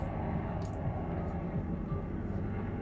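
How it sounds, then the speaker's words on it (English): A Chinook military twin-rotor helicopter passes overhead in a heavily militarised area, a deep, steady rumbling drone that fills the background throughout. "Can you hear that? That's a Chinook."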